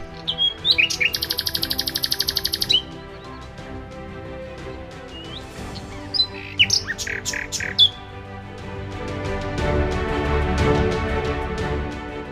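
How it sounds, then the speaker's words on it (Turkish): Birds chirp and squawk nearby in rapid bursts and trills in a village in Durağan, Sinop, Turkey, with a rising outdoor rumble of background noise toward the end. "kuş sesleri geliyor değil mi kulağınıza?"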